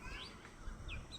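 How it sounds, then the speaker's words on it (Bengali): Birds chirp and call around a small rooftop garden at sunset, several short tweets rising over a steady low outdoor rumble, moderately distant and fairly faint throughout. "চারিদিকে পাখি ডাকছে"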